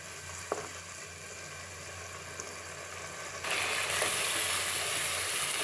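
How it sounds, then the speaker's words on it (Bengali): Spice masala being sautéed in a pan while cooking desi chicken with dried bean seeds, a steady low sizzle that grows noticeably louder and brighter partway through, with no talking. "মশলাটা ভালোভাবে কষিয়ে নিচ্ছি।"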